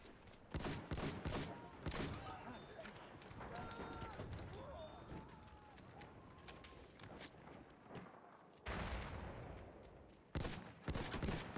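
Rapid bursts of gunfire from a shooter video game crackle loudly in clusters, with dense firing through the first half, a brief lull, then renewed sharp volleys near the end.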